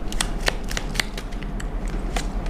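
Tarot cards being handled and shuffled, a series of crisp flicking and slapping card sounds close by, with no talking.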